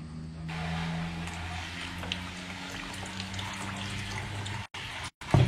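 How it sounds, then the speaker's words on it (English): Running water pours steadily for a rinse, a continuous hiss that stops abruptly near the end, with a low mechanical hum underneath throughout. "And give it a rinse."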